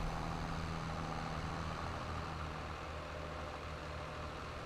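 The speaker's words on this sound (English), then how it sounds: "Good thing this tractor goes quick." A tractor engine in Farming Simulator 22 drives along at speed, a steady low droning rumble with a constant hum, moderately loud and unbroken for the whole stretch, with no talking.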